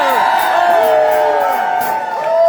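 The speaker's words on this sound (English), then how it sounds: "How about a nice big round of applause for my longtime box partner, Mr. Pete Darzinski." Crowd at a polka band's New Year's Eve show cheering and whooping for a band member, sustained loud vocal cheers and shouts with little distinct clapping, close and continuous.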